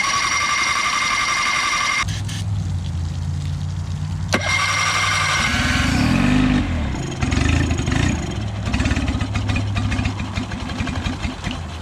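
An outboard boat engine with the choke on cranks and catches, then runs with a rough, uneven idle and a few revs rising and falling, loud and close, with clattering mechanical noise and no talk.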